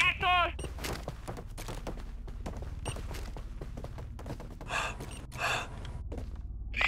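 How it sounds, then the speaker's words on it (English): Breathing in the multiplayer game Garry's Mod, The Hidden mode, heard as a few breathy broadband puffs, strongest near the end, over a constant low game rumble with scattered clicks and a brief tonal sound at the start. "Well, who's breathing?"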